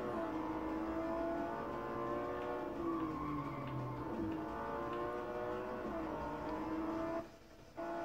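Car engine and tyre noise from a driving game played on an Android TV box, a steady loud revving drone with shifting pitch throughout, briefly dropping near the end, with no talking.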